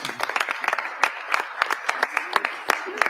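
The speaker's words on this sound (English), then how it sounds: "I'll clap for you." A small audience at a funding award presentation claps in a steady, rhythmic run of distinct hand claps, fairly close and moderately loud.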